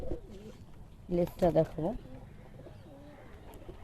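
Giribaz pigeons of Pakistani bloodline give soft, low cooing phrases, heard close and moderately loud for about a second, with a person talking briefly over and around the calls.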